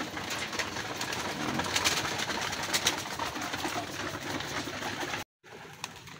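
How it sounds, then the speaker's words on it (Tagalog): Pet pigeons feeding together, a close, busy mix of cooing, wing flutters and pecking sounds that runs steadily, broken by a brief silent gap near the end. "Ganyan sila kalalakas kumain mga kalapatid, mga alaga natin."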